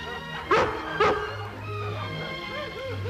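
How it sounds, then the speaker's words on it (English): A dog gives two sharp, close barks in quick succession, followed by soft whimpering yips while an orchestral score plays underneath. "I found a dog."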